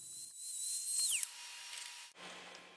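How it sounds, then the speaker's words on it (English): A drill bores a hole just above the lip of a plastic bottle, making a high whining spin that winds down in pitch, then a short rough grinding burst at the end, fairly quiet and with no voices. "Cut or drill a hole just above the lip of the bottle."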